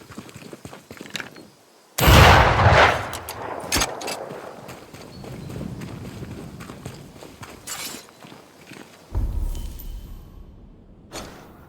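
A gunshot from the Banishers: Ghost of New Eden video game, fired at a shard, lands as a loud, sudden blast followed by rumbling game sound, with another sharp burst later amid continuous in-game noise.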